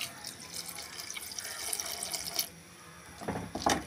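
Water splashes steadily into a cooking pot of drumstick, raw mango and brinjal, a close, continuous trickling pour that stops and then briefly resumes.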